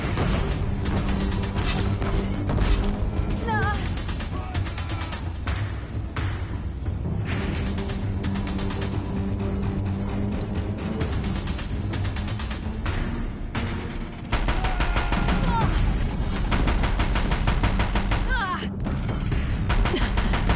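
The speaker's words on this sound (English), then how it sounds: "If the Deathbringers keep firing, this bridge will go." Deathbringer machines fire on a bridge in the video game Horizon Zero Dawn: a sustained barrage of mechanical bursts, creaks and crashing impacts over a constant low rumble, with speech-like sounds mixed in throughout.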